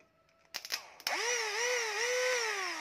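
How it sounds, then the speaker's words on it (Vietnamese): An electric drill motor with speed control and reverse switch clicks, then spins up into a steady, loud whine that wavers slightly in pitch while running alone. "cái motor này là cái khoan này là thằng của em vẫn gửi cho em"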